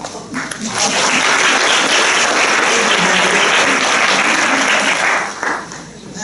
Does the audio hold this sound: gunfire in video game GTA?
no